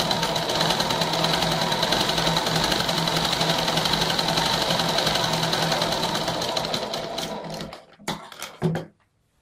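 A sewing machine stitches a Patiala salwar seam, a fast, even mechanical whir running steadily up close before slowing into a few short bursts and stopping.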